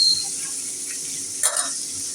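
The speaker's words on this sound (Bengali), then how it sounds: "এই যে লাল লাল করে ভেজে নিচ্ছি।" Chicken pieces fry in hot oil in a pan, giving a steady, bright sizzling hiss with one brief clatter partway through. No speech.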